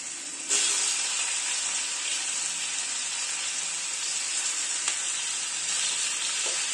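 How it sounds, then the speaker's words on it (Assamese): Onions sizzle steadily in hot oil in a pan where fish was fried with five-spice seeds, a loud even crackle starting abruptly after a brief quiet moment and holding without break. "পিঁয়াজখিনি দি দিলোঁ।"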